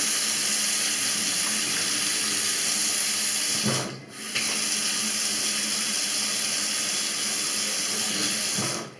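Water runs steadily from a repaired mixer tap, switched between hot and cold, a loud continuous close rush with one brief dip partway through and no talk.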